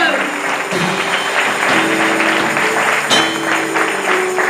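A church congregation breaks into applause during a Spanish-language sermon, sustained clapping at moderate level over a background of organ or keyboard tones, with a brief sharp accent near the end.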